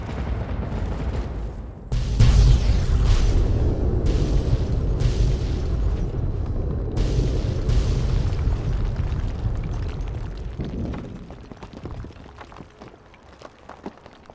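A mansion explodes in the video game Fallout 3. A deep boom hits, then a long rumbling roar with crackling bursts follows and slowly fades over many seconds, with no voices.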